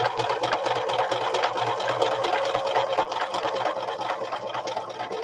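A sewing machine stitches fabric for a shabby chic fabric clutch, running steadily at close range with a dense, continuous whir for the whole stretch and no talk over it.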